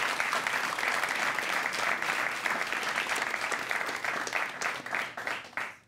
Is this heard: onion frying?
no